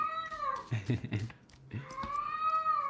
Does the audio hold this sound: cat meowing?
yes